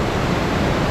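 Steady broadband rush of water falling at the Umbrella Waterfall (Sajikot) in Pakistan, a dense continuous roar heard close with no voices.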